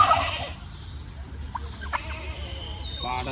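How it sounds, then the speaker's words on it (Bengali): Guinea fowl call at a Thai bird park, a few brief harsh cackling notes rising out of an outdoor murmur of background noise, fairly faint and close together. "তিতির মুরগি আছে"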